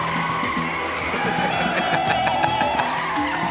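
Tires skid and squeal during a car chase in the movie Deep in the Amazon, a continuous dense screech layered with engine roar and soundtrack, loud and unbroken.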